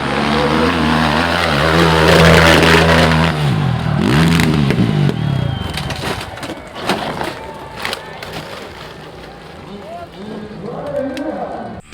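A dirt bike engine on a hillclimb revs hard with the throttle held wide open, a loud, strained, wavering roar that rises and falls and fades as the bike climbs, and a commentator talks over the start.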